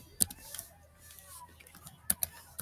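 A few quick, light computer keyboard keystrokes during video game chat, soft and scattered in two short bursts, faint against low background noise.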